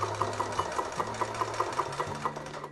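A Handiquilter Moxie XL longarm quilting machine stitches steadily, its needle punching up and down in a fast, even rhythm over a low motor hum, close and alone.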